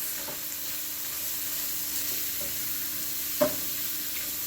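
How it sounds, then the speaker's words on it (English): A chicken casserole seasoning mixture with lemon and pepper is stirred in a pan, giving a soft continuous sizzle with faint scraping and one brief louder clink of the utensil. "now you're going to stir all of this"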